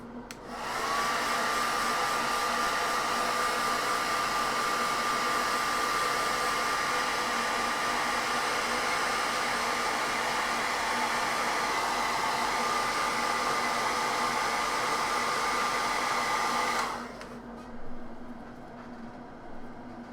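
An airbrush or spray dusts paint onto a Knight Armiger model from a distance, giving a loud, continuous hissing rush with a steady tone for about seventeen seconds before cutting off.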